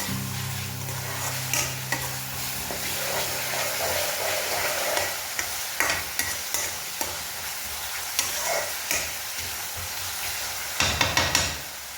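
Chopped ginger, onion, garlic and green chilli fry together in hot oil with a pinch of salt, a continuous close sizzle punctuated by sharp stirring knocks and scrapes that cluster near the end, with no talk.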